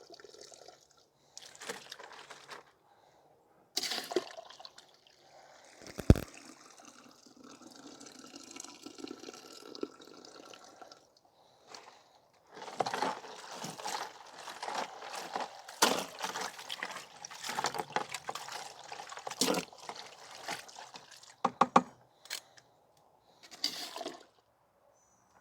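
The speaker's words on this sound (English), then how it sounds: "we'll put another bag of ice in the water because it's not ice cold anymore" Ice from a bag tumbling into a tub of cold water used for blanching brassica greens such as collards, with splashes, trickles and drips in scattered bursts close by, some louder clusters in the middle and quiet gaps between.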